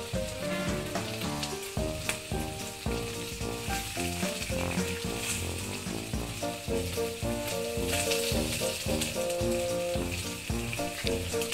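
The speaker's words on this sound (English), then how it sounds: "Putting olive oil in the pan, a lot of it. And then adding our wonderful potatoes." Potatoes sizzle and crackle in a generous pool of olive oil in a pan, a steady frying hiss sitting under loud, rhythmic background music throughout.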